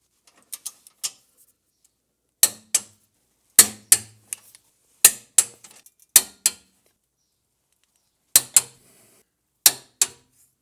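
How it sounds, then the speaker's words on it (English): A 14 mm torque wrench tightens control arm bolts on a Subaru Outback: crisp paired clicks and ratchet snaps in short spaced bursts, close and distinct, separated by silent gaps. "I'm going to torque them to 52 foot-pounds with a 14 millimeter."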